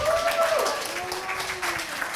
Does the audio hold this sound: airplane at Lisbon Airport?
no